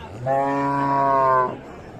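A Friesian cow at a cattle market in Dinajpur gives a single clear, drawn-out moo lasting just over a second, loud and close, with faint market noise around it.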